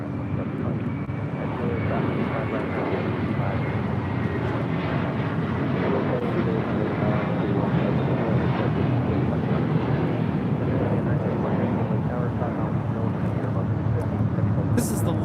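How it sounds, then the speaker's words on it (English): A four-year-old JetBlue Airways Airbus A321 takes off from LAX bound for Newark, a broad, steady engine roar mixed with wind buffeting, sustained for the whole stretch. "Taking off to Newark. It's a 4-year-old A321, JetBlue Airways 1874."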